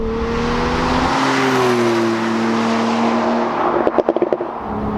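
A Porsche 911 GTS of the 997 generation driven at very high speed, its engine droning steadily and rising in pitch under heavy wind roar, with a rapid rattling flutter near the end.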